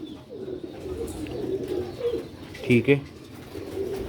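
Sialkoti rocket silver pigeons on an old rooftop giving soft, low throaty coos close by, while someone talks in the background.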